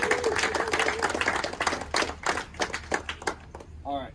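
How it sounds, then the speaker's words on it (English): A small group at a West Point commissioning ceremony claps for a few seconds, individual claps audible and somewhat uneven, tapering off as someone begins to speak. "let's give him a round of"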